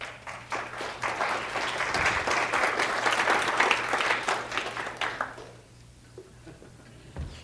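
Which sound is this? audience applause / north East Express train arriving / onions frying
audience applause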